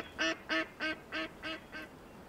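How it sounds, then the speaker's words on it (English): Six evenly spaced, nasal duck quacks sound in the Way of the Hunter hunting game, moderately distant and fading slightly toward the end over a faint outdoor ambience. "Ducks flying around."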